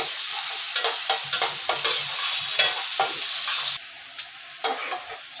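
Chopped onion sizzles in hot white cooking oil as a spoon stirs it, bright crackling frying with repeated scraping knocks against the pan, close and loud, quieting toward the end.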